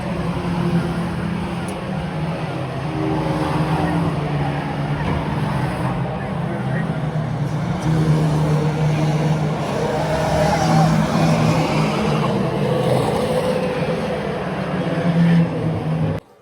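Stock car engines drone and snarl continuously at Cowdenbeath Racewall, a steady layered roar of several cars lapping the oval, loud and close throughout before cutting off abruptly.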